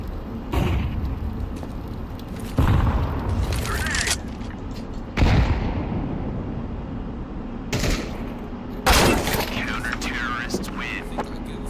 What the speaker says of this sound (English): I'm throwing a grenade. I'm throwing a flashbang.